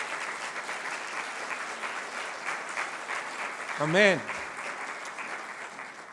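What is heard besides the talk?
congregation applauding in church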